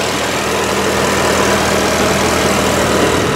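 The 4.8-liter twin-turbo V8 of a Porsche Panamera Turbo runs at a steady idle, a dense continuous engine hum heard up close with no talking.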